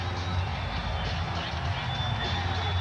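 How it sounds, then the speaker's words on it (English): A home crowd cheering the Orlando Magic at a 1995 NBA playoff basketball game against the Chicago Bulls, a dense, continuous roar of many voices with no clear claps or words. "The crowd here cheering on the Orlando Magic"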